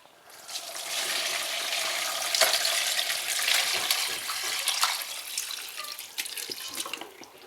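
Bone broth poured through a fine mesh strainer, a steady continuous splashing and trickling of liquid close by, holding fairly even for several seconds before tapering toward the end.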